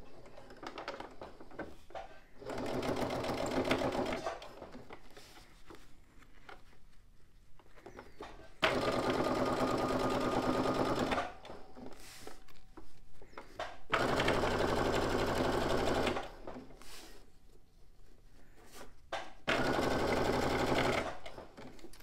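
A sewing machine stitching a pencil case seam along piping, running in four bursts of rapid rattling stitching separated by quiet pauses, close and clear with no talking over it.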